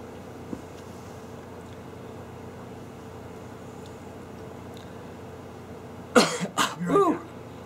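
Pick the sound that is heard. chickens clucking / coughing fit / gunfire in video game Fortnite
coughing fit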